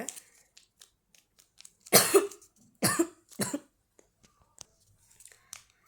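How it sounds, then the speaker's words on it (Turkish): A few sharp coughs ring out near the mic, two or three bursts spaced apart, with quiet rustling and handling noises between them. "Arkadaşlar biraz öksürdüm o yüzden durdurmak zorunda kaldım üzgünüm."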